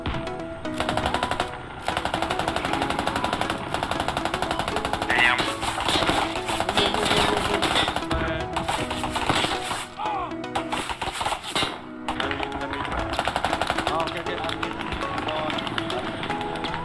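Rapid machine gun fire rattles through a firefight in the military shooter Squad, loud dense bursts repeating with brief gaps across the whole stretch, with a voice talking over parts of it.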